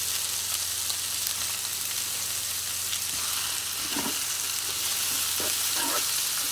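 Sausages and lardons frying in an electric slow cooker with a non-stick coating, giving a steady broadband sizzle with a few soft scrapes and pops near the end and no talking.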